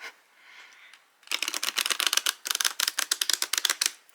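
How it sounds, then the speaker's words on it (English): Tarot cards riffle shuffled from the corners give a fast, close, crisp flutter of snapping cards that lasts about three seconds after a quiet start. "I am new to riffle shuffling and I can only do it like from the corners."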